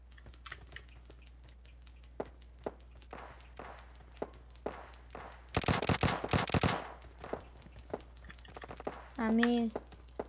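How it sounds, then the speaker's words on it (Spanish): PUBG Mobile gunfire: sparse single shots crack at a distance, then a loud rapid automatic burst lasts about a second, followed by more scattered shots and a brief spoken voice. "Hay disparos por allá, amigo."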